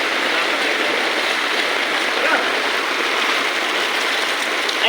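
Floodwater flowing steadily through a flooded town in Calumpit, a continuous broadband rush with no break, fairly loud and close.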